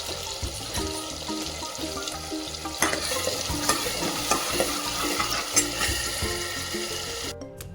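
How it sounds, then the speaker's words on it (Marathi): Ground masala frying in hot oil for chole, a steady close sizzle with stirring scrapes and occasional clacks of a spoon against the pot, and no voices. "बारीक केलेले मसाला गरम तेलामध्ये आपण टाकणार आहोत ते व्यवस्थित फ्राय होऊन द्यायचं आहे"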